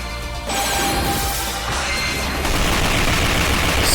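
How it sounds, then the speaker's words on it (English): Dense barrage of explosions and gunfire-like blasts in the battle game Touhou Gensou Maroku W, loud and continuous with crashing bursts throughout. "That is a lot of explosions."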